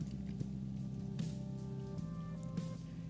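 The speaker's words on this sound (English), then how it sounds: "It's raining." Steady rain patters continuously on a surface, a dense even hiss with occasional louder drops and a low hum underneath.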